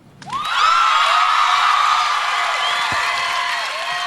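A live audience at a Rockstar INXS elimination show erupts into loud, sustained cheering, whooping and clapping that swells quickly and holds steady before easing slightly at the end.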